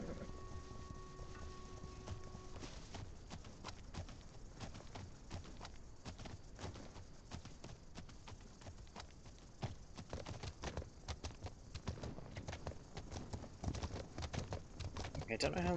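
Horse hooves clip-clop steadily in The Legend of Khiimori, a rapid run of light footfalls that continues throughout over game ambience, with a person talking over the top.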